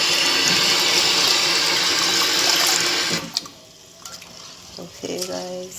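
Tap water runs loudly while brown rice is washed under it in a kitchen, a steady rushing stream that cuts off partway through, leaving brief faint handling sounds and soft clinks.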